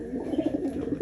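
Bred backyard pigeons coo softly and continuously in a low, murmuring warble, close by with a faint hiss of background noise.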